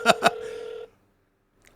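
A telephone being dialed: two quick key-press beeps followed by a longer steady tone, then a brief pause and another sharp tone, close and clear.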